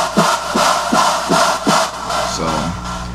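Three layered synth screeches stacked into one harsh, buzzing electronic tone, pulsing in about five rhythmic bursts before a warbling, descending tail; loud and upfront with no voices.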